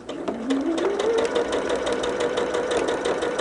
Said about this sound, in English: I'm going to go back and re-stitch that just slightly off the original seam line for some extra support